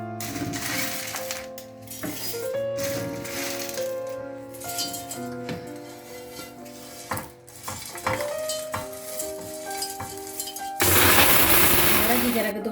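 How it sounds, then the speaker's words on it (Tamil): An electric spice grinder pulverising roasted meat masala spices into powder kicks in near the end with a loud, steady whirring roar that follows a stretch of quieter kitchen clatter. "இதை இப்போ நான் கொஞ்சம் கொஞ்சமாக போட்டு அரைச்சி எடுக்க போகிறேன்"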